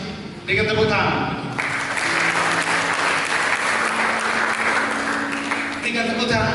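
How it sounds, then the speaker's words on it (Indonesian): A church congregation breaks into dense, sustained applause that swells after a brief voiced opening, steady and loud, with a voice audible at the start and end. "Dengan tepuk tangan begitu."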